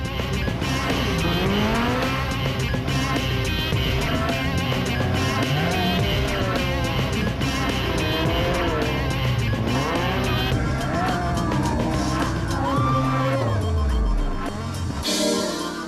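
Rally cars race flat out around a shopping centre car park at night during a stage-rally event, engines revving hard and changing gear, tyres squealing through turns, loud and continuous throughout with crowd noise beneath.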